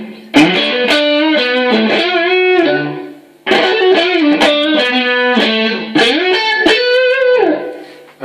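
Clean electric guitar run through a yellow compressor pedal, a Decimator noise gate and reverb in Andrew Moore's rig, playing two ringing chord phrases with strummed attacks and a short gap between them, loud and alone.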